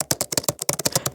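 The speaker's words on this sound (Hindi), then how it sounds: "कीबोर्ड की टाइपिंग की आवाज़ पूरे ऑफिस में गूंज रही होती है।" A computer keyboard in an office clatters with quick, close key taps, about a dozen crisp strokes in an uneven rhythm, with no voices over them.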